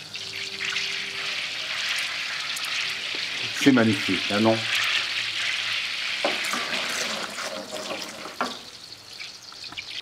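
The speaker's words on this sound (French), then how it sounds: "Et écoutez ce petit frémissement." Butter gently simmering with Madagascar bourbon vanilla in a pan gives a steady soft sizzle and bubbling throughout, with a brief clatter and a person speaking partway over it.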